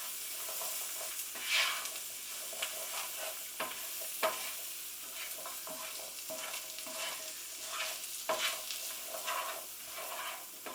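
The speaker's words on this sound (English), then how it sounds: "We're going to give them a good stir to make sure that they get into contact with those spices." Chickpeas with spices are stirred in a pan over gentle frying heat, a steady soft sizzle broken by repeated close scraping strokes of a utensil against the pan, no talk.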